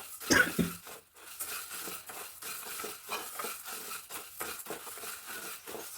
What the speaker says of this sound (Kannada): ಈ ಥರ ದಪ್ಪ ತಳ ಇರೋ ಪಾತ್ರೆ ತೊಗೊಂಡು ಹುರ್ಕೊಂಡ್ರೆ ರುಚಿ ಚೆನ್ನಾಗಿರುತ್ತೆ